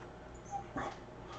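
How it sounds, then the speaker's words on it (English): A dog whimpers softly somewhere out of sight, giving a brief, faint whine over a steady background hum. "must be a dog because I don't see anyone"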